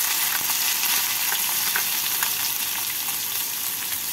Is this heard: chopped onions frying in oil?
yes